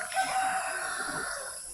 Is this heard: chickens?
yes